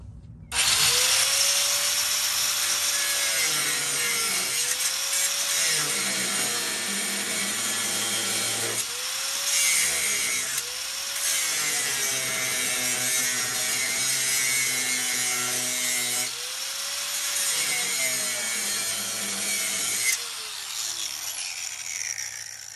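A 4-inch angle grinder cuts through a steel leaf spring hanger on a 2018 Grand Design trailer in long, loud passes, pausing briefly between them, close by with no voices.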